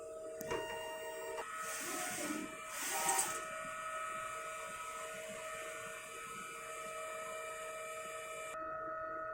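A DTF printer runs a nozzle test after a head clean, giving a steady mechanical whir with tonal hums and a brief louder burst of print-head movement, close and alone before it cuts off near the end.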